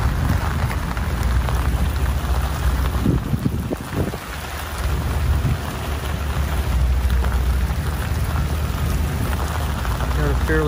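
Steady heavy monsoon rain hisses across the whole stretch at an outdoor civic center mall, dense and unbroken, with a low rumble underneath and faint voices murmuring briefly in the background.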